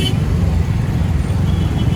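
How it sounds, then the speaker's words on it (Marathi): Road traffic on a busy Mumbai road during a bike ride toward Kasara ghat: a steady, loud low rumble of passing cars and engines close by, with no clear speech. "ह्या लाईनीला पण ट्रॅफिक आहे."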